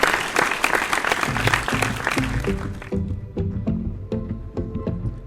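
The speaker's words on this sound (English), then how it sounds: "Keep the applause coming, ladies and gentlemen." Audience applause at an awards gala as a doctor walks on stage, loud clapping that thins out midway as a rhythmic music track with a steady bass beat takes over.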